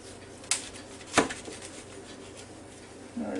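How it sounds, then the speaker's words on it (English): A knife slicing a tomato on a cutting board, two quiet crisp cuts landing about a second apart over faint room noise. "Now I got me a couple of slices off that tomato."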